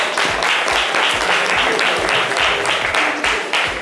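Loud, sustained applause from a studio audience during a live radio-TV show, dense continuous clapping throughout with faint voices underneath.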